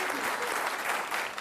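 Studio audience clapping steadily for a woman contestant finishing a timed physical challenge on an Ethiopian TV game show, a dense, even burst of applause that carries through without a break.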